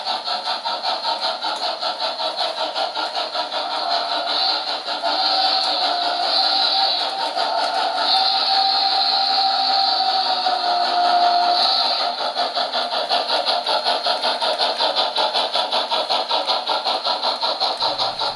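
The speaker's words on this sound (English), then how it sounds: "simulate a heavy chuff sound emitted by the locomotive when it is pulling a heavy load up the hill" A modified Bachmann Lima Berkshire 2-8-4 model steam locomotive with an ESU sound decoder gives a heavy, rapid, rhythmic chuff, steady and loud with a hissing edge, alone throughout.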